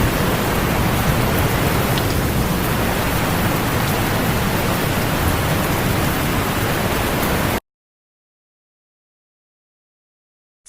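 Heavy rain in a video game makes a steady, dense hiss that is loud and close, then cuts off abruptly into silence for the last few seconds.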